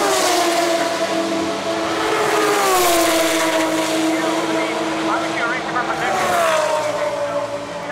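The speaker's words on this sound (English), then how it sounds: "Cars drown me out, but fantastic, exciting, super loud." Race cars roar past loudly, engines rising and falling in pitch as they sweep by, one after another, with a voice barely audible beneath.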